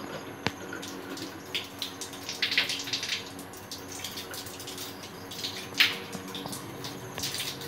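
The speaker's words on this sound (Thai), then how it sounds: "เราเปิดน้ำแล้วนะครับ" A tap feeding an electric water heater that won't heat runs with a soft, steady hiss of flowing water, joined by a few faint clicks and small clatters nearby.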